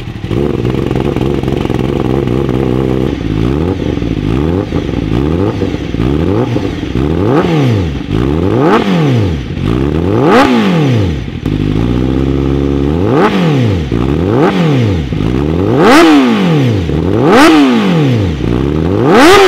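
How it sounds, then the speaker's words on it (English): A 2021 Honda CBR1000RR-R Fireblade SP with a newly fitted aftermarket exhaust revs repeatedly, its engine climbing sharply and dropping back in a string of loud, close throttle blips over a steady idle. "gassing up the CBR 1000 RRR SP Fireblade"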